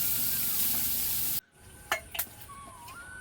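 Tilapia fish frying in hot oil in a pan, a loud steady sizzle that cuts off abruptly, followed by a few faint clinks and stirring sounds in near silence.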